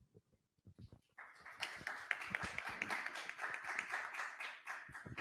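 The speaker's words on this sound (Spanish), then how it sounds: "Vamos a recibir con un fuerte aplauso al doctor Manuel Moreno Castañeda." After a few scattered claps, an audience at an education conference breaks into full applause to welcome a speaker, building quickly and staying steady.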